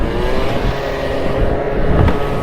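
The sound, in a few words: Piaggio Zip scooter engine with 50cc kit revving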